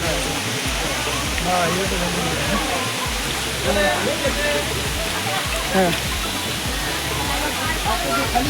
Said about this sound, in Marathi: मित्रांनो व्ह्यू बघा कसा भारी आहे इथून धबधब्याचा